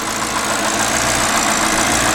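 A 2013 Audi RS5 idles steadily at close range after a troubled restart, its engine note a constant, even rumble with a faint mechanical ticking and no talk over it.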